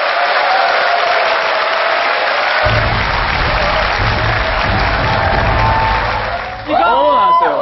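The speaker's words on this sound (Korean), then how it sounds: "박수 부탁드립니다" Audience applause and a cheering crowd in a TV music competition studio, a loud continuous wash of clapping that lasts several seconds. A low rumbling backing enters midway, and a voice cuts in at the end.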